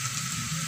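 Chopped onion and slit green chillies fry in hot oil, giving a brief, steady, close sizzling hiss with no voices.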